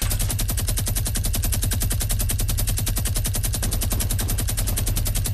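Fortnite Battle Royale gunfire rattles in a continuous rapid automatic stream, loud and close, with evenly spaced shots and no pauses across the whole stretch.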